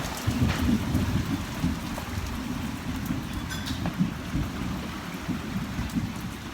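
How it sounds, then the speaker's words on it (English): Heavy rain pours steadily during a thunderstorm, a dense continuous hiss and patter on surfaces with low thunder rumbling underneath and a few sharper drop hits. "Now the rain's dying down a little bit."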